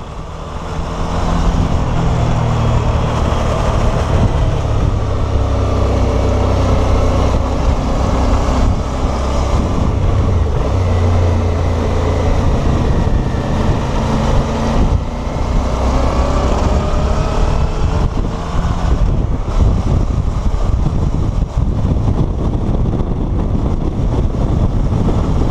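A Suzuki V-Strom 650 XT motorcycle, a 2018 model, rides steadily downhill on a mountain road, its engine droning loud and continuous with heavy wind rush throughout.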